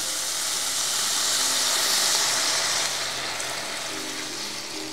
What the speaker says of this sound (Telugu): ఒక 2 నిమిషాలు ఇలా వేగిన తర్వాత వాటర్ వేసేద్దామండి, మరుగుతూ ఉంటుంది